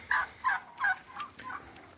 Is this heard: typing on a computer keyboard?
no